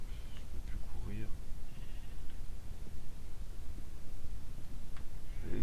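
Sheep bleat in a Minecraft-style survival game, a few short cries repeating over a steady background of game sounds.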